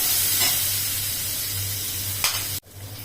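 Green pea kachori filling with hing and salt being sautéed in a pan, a steady hissing sizzle with a quick scrape of a spatula, then a sudden cutoff and quieter sizzle.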